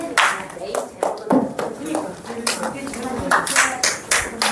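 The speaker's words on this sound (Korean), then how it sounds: "열심히 알려주신 회장님께 큰 박수" Students in a classroom applaud the regional branch head of the Korean Liberation Association with loud, close clapping that comes in uneven bursts and then fills in. Voices mingle with the applause.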